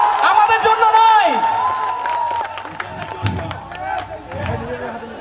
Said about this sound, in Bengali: হাততালি নিজেদের জন্য, আমাদের জন্য নয়